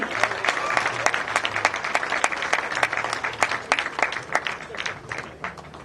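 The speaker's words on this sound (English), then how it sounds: "And a round of applause for Imran Manji." Applause at a wedding reception, a room of guests clapping with distinct individual claps audible throughout, moderately loud and fading toward the end.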